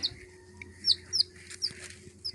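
A pet chicken makes a few soft, short clucks and chirps spaced irregularly over a quiet indoor background, close but faint.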